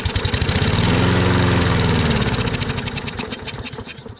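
A John Deere lawn mower engine runs steadily close by, a loud, rough throbbing that swells and then fades somewhat toward the end, with no talking.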